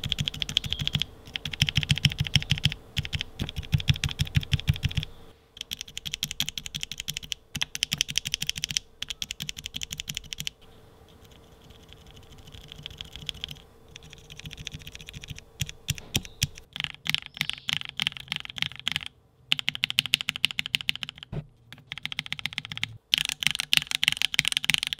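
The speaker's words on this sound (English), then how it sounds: "it starts to create the satisfying pop sound whenever you bottom out and return on the switch" Typing on a mechanical keyboard fitted with lubed Tealios V2 switches, close and crisp, with rapid continuous clacks and poppy bottom-out thocks in bursts separated by brief pauses, no talking.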